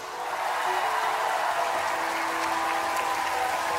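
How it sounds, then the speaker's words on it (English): Steady audience applause at a Mister Supranational pageant show welcomes the reigning Mr. Supranational 2019, a continuous even wash of clapping at moderate level with a faint hum beneath. "Give him a warm round of applause, ladies and gentlemen."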